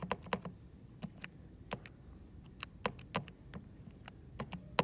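Keys pressed on a calculator while working out a compound growth exponent, heard as a steady run of light, quick clicks and taps, close and fairly faint, with no talking.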